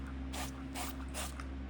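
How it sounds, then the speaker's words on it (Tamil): Three short bursts from an oil spray bottle misting Brussels sprouts before crisping, evenly spaced about every 0.4 seconds, fairly soft and close over a steady low hum, no talking. "இன்னும் கொஞ்சம் ஆயில் லேசாக ஸ்ப்ரே பண்ணி விட்டுக்குங்க"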